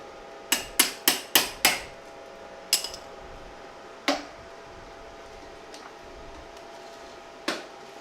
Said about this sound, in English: I need a little hammer.